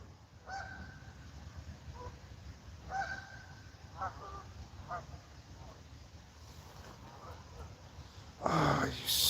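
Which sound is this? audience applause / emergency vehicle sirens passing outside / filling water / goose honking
goose honking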